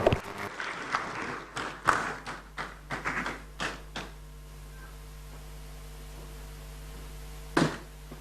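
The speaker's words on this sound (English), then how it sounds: "Let's give the honorable member another round of applause." Audience members at an inter-parliamentary conference on family, sovereignty and values give a speaker scattered applause: a loose run of separate claps in a quiet hall that fades out, then one last brief clap near the end.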